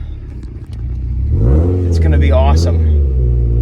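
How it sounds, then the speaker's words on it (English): A Subaru STI engine rumbles at a steady low idle close by, with someone talking over it. "the car already just idles"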